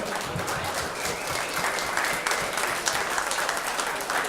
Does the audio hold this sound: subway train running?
no